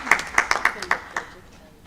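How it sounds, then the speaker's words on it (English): An audience at the Uganda Counselling Association annual general meeting claps in a short, uneven burst of hand claps, with voices mixed in. "let's clap to that"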